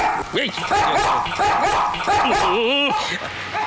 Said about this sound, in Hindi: मुझ पर भौंक रहा है